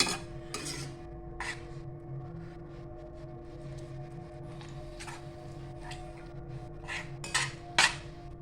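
A utensil scrapes and clinks against a pan while carrot halwa is stirred together with added milk; soft, irregular metallic scrapes and taps, with a few louder clatters near the end, and no talking.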